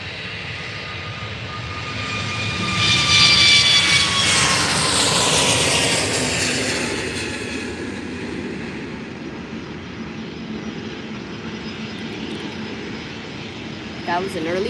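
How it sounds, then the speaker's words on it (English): A Eurowings Airbus A320neo jet taking off at Faro Airport, a distant engine roar building into a loud rising whine that peaks and then fades away, with voices talking at times over it. "here goes the Eurowings A320neo"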